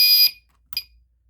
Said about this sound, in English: Or if you let go of it, the alarm will sound.